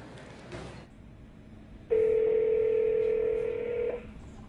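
A telephone call is dialed from a broadcast studio, a single steady electronic tone holding for about two seconds, fairly loud and clear above a low background hum.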